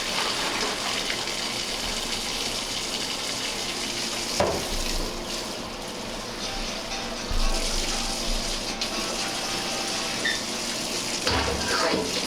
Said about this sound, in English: I'm gonna strain the water out.